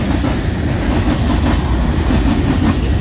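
CN freight train 5438, the southbound Woodtick local, rolls past at Ladysmith, a loud, steady rumble of wheels and rail cars with faint clickety-clack running close by throughout.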